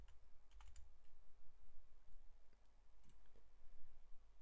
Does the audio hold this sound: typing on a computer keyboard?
yes